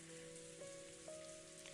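Steady rain falling on a golden rose garden in the visual novel Umineko When They Cry, a constant soft patter with a few faint sustained tones from the game's soundtrack behind it, and no voices.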